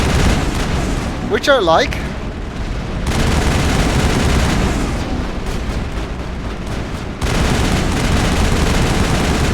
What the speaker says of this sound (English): Turrets are helping as well, as you can see.